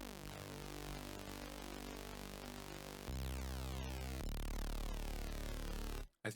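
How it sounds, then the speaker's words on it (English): Reese bass patch built in the Vital synth with detuned, widened voices, a thick sustained buzzing bass tone that shifts character in sections and ends abruptly, with no talk. "As you can hear, it has a really spacey, awesome, robotic kind of sound."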